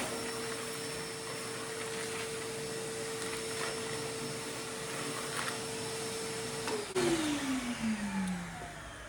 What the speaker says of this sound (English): I'm actually gonna vacuum the front half of this real quick with this vacuum